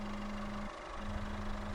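A 2014 Peugeot 2008 crossover with a 1.6 e-HDi 92 diesel engine idles steadily, giving a low, even rumble with a faint rhythmic clatter. No voices are heard.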